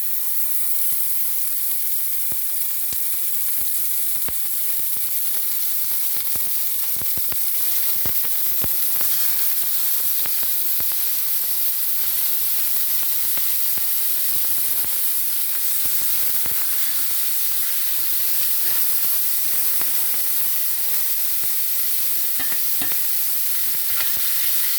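About a pound of ground beef fries in a cast iron skillet, giving a steady close sizzle and hiss with occasional scraping stirs.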